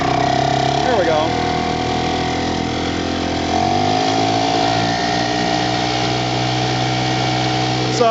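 A 1940 Bendix Eclipse TMD outboard motor of 4.5 horsepower running on a boat moving upstream, giving a loud, steady, close droning engine tone throughout, with a voice talking over it.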